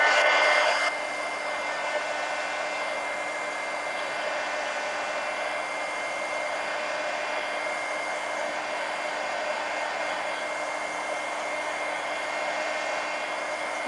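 A hair dryer blows steadily on a coloring book page to dry blue ink so it won't smear, a continuous close whooshing hum that starts loud and holds an even level throughout, with no talking.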